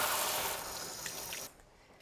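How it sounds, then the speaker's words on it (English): Tap water runs steadily into a sink as hands are rinsed during home cooking, a broad close hiss for about a second and a half before the flow cuts off and leaves a quiet room. "I'm just going to quickly go rinse my hands"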